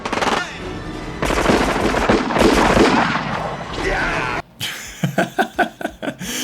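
Dense, loud gunfire from the film RoboCop, with rapid bursts and heavy impacts over a busy action soundtrack, ending in a string of sharp, separate shots.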